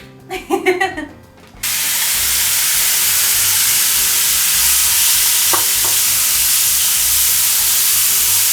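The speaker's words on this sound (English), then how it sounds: "And on the same pan, last, our beef." Marinated beef for japchae drops into a hot frying pan with a loud, steady sizzle that hisses on without a break, after a short stretch of talk at the start.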